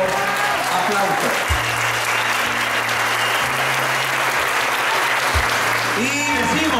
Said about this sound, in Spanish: para los que pido un fuerte y caluroso aplauso